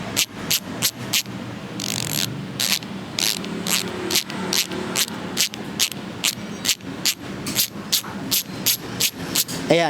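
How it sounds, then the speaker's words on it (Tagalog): Weapon Hammer bicycle rear hub ratchet freewheeling, a steady run of sharp, evenly spaced metallic clicks close up, with a brief rougher scrape partway through and no talking. "so ito yung ratchet type nila ng weapon. Ito si weapon hammer."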